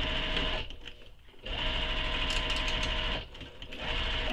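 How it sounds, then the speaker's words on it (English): Sewing machine stitching a bag's exterior to its lining, a steady close motor whir with a brief slowdown in the middle before it runs on again. "I'm going to sew again from the lining side so that this doesn't shift around on me."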